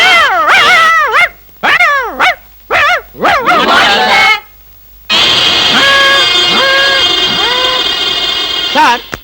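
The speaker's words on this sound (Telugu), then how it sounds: "కుక్కలు అరుస్తున్నారండి." Dogs bark and yelp in a series of sharp, loud calls with short pauses, followed by a longer stretch of whining, howling tones over a noisy background.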